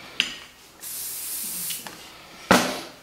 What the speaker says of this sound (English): We're going to have a little spray